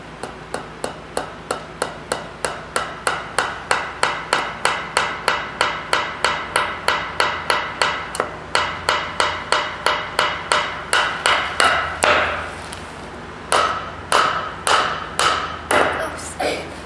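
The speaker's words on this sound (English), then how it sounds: "She's in the shop today practicing hammering." A child hammers in a workshop, steady, evenly spaced blows ringing out one after another, dozens of sharp strikes with a brief pause near the end.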